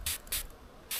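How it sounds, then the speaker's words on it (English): Scent spray hissing from a bottle in the big woods during a deer hunt, three short bursts, close and fairly faint, with quiet pauses between them. "Right now I'm just gonna go ahead and spray it."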